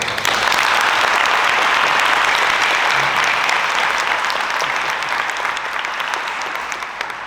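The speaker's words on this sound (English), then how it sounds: "Let's please give them all a round of applause." Sustained audience applause fills the full seven seconds at the Saddle Brook Police Department Junior Police Academy event, a dense, steady wash of many hands clapping that fades slightly toward the end, with no talk over it.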